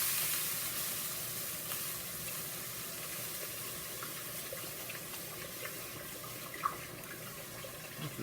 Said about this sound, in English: now I'm gonna add my beef stock to this.